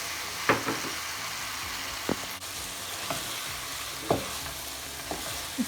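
Lamb pieces fry with spices in a pan, giving a steady close sizzle broken by a few scraping stirs of a spoon at uneven intervals.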